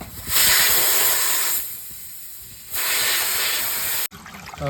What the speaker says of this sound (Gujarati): હવે એ રીતના ગેસ કાઢી નાખવાનો